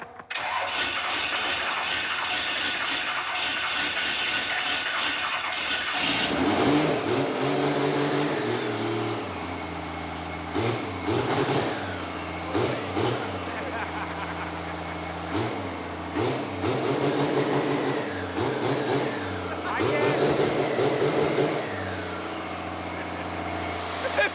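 A diesel-swapped Torino wagon engine, said to make 800 horsepower, fires up after a cranking hum, then revs hard in repeated loud bursts that drop back to a rough, throbbing idle between throttle blips.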